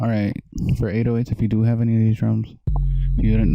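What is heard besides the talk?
No everyday noise stands out behind the speech.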